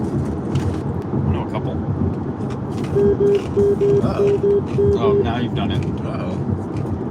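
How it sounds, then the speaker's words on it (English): A Tesla's warning alert chimes in a quick series of repeated beeps over steady road noise as a truck veers over, while people talk briefly. "That was the sound of an angry Tesla."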